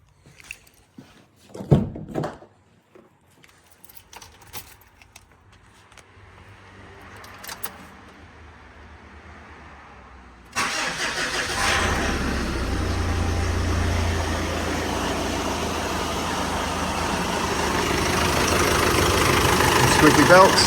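Mitsubishi Triton (MN) engine with hardline intercooler piping fitted, quiet clicks and handling noises first, then the engine fires at about ten seconds and settles into a steady, loud idle that grows slightly louder, with faint belt squeal.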